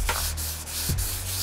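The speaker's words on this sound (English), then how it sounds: "listen to the difference the sandpaper makes" Sandpaper rubs steadily across a rough spot on a Jaguar car body, a continuous close, gritty scraping with a brief stroke change near the end, no voices.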